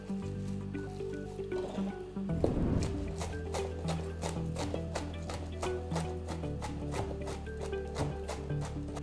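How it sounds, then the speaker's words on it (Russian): A knife chops fresh parsley finely on a cutting board, a fast, even run of crisp close taps over a steady low background hum. "Берем петрушку и мелко ее нарезаем."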